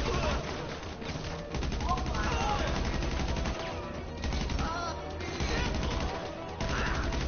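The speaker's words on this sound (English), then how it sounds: "I got one shooting at me in the back." Rapid gunfire in GTA, bursts of automatic shooting with crashing impacts repeating over several seconds, loud and close, with voices talking in between.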